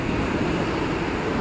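Waves and wind at Varkala Cliff beach in Kerala, a dense continuous roar of surf with heavy wind buffeting the microphone, loud and close, no voices.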